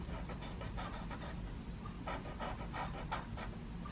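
A pen scratches across bullet journal paper while holly is drawn, giving soft, close strokes in short bursts over a quiet room.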